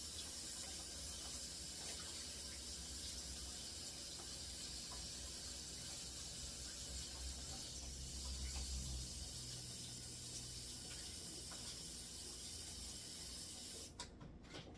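Tap water runs steadily into a sink while a utensil is rinsed off during sourdough making, an even hissing flow that is faint and close, with a soft clunk at the end.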